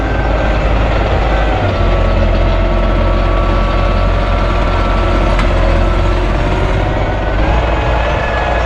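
A loud, heavy diesel tractor engine pulling a PLN 3-35 plough through a boggy field drones steadily at close range, a constant low rumble with no pauses throughout.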